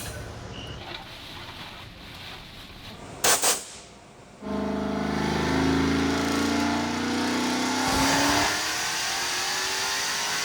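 A manual-transmission Dodge Demon on a dyno, running a 100-shot of nitrous, starts with a sharp bang and then a loud sustained wide-open roar, its engine pitch climbing steadily through the pull before cutting off, with no talking.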